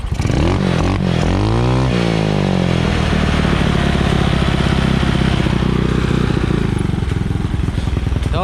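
A Yamaha Mio Sporty scooter, fitted with a new rectifier after losing its electrical output, cranks and catches with a rising whine, then settles into a loud, steady idle close to the microphone.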